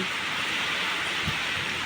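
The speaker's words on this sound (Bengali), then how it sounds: "বাইরে খুব জোরে বৃষ্টি নামিয়েছে" Heavy rain falls outside in a steady, dense hiss that holds evenly throughout, with no talk.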